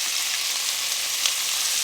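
Bacon crisping in a frying pan with diced tomato just added, giving a steady, loud broadband sizzle and crackle that holds evenly throughout with no voices.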